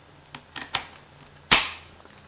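Cylinder of a Dan Wesson 6-inch CO2 airsoft revolver being closed: a few light metallic clicks, then one sharp, loud snap as it locks into place, close up with no talking.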